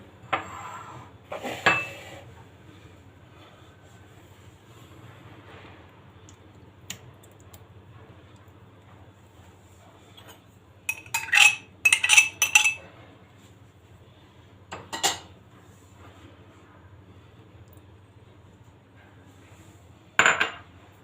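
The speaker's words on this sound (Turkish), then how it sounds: "Önce malzemelerimizi karıştıralım." Cutlery scraping and clinking against a bowl while oil and yogurt are mixed for a börek dough, in scattered bursts with quiet gaps between, fairly close and with no talk.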